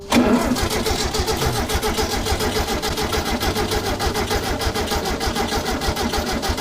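A 1965 VW Beetle with a sunroof and 55,000 original miles cranks over steadily during a compression test. The starter's rhythmic, evenly spaced pulses run close and loud without firing, and no one speaks.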